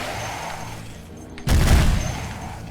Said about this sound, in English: Gonna be a lot of firing as the automated turret bots kill all the local zombies